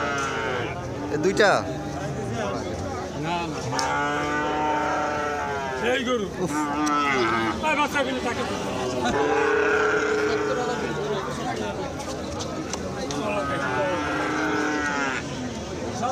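Sahiwal cattle at a busy livestock market give repeated loud, drawn-out moos, several overlapping nearby. People talk in the background throughout.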